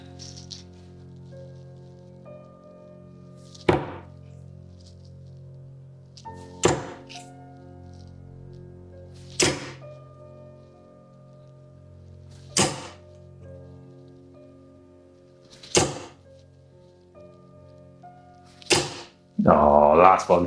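Darts thud into a dartboard in a slow, evenly spaced series of six sharp, close impacts, with a quiet low background hum between them and a brief rustle at the very end.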